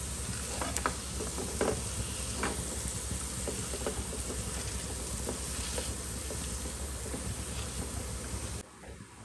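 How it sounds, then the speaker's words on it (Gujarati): Boiled potatoes are mashed with a masher into a spiced onion filling for aloo pyaj kachori in a hot pan. Soft, repeated squishing presses sit over a constant low sizzle, faint and close, with no voices. "બાફેલા બટેકા એડ કરી દઈશું, જેને આપણે મેસરની મદદથી મેશ કરી લઈશું"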